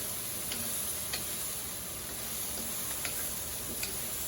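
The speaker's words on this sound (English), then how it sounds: "The pan's getting nice and hot. You can hear it sizzling." Steady hissing sizzle of vegetables stir-frying in a hot pan, with a few faint clicks or taps scattered through.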